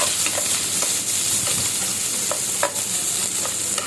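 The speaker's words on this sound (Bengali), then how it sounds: "তেল গরম করে পেঁয়াজ কুচিগুলো দিয়ে ভালো মতো" Chopped onions fry in hot oil in a frying pan, giving off a steady, loud sizzle, while a utensil scrapes and taps against the pan every so often as the onions are stirred.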